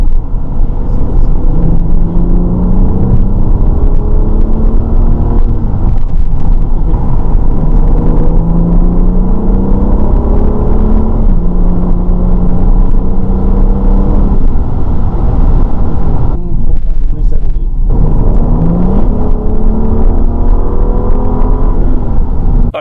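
A 2013 BMW 335i with 36,000 miles on test drive, its engine and road noise droning steadily from inside the cabin, with rising and falling pitch as it accelerates and shifts, continuous and loud throughout.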